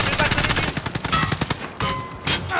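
Rapid bursts of automatic gunfire strike the player in the online shooter Call of Duty: Modern Warfare, loud and close, with a tight rattling rhythm and a shouting voice over it.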